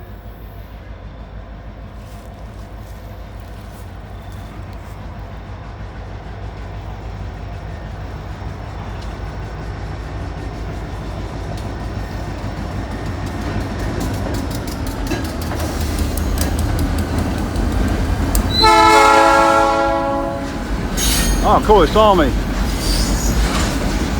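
A freight train hauling three loads of railroad ties rumbles past and grows louder, then its horn sounds a long, loud salute near the end, with wheels squealing on the rails; someone speaks briefly.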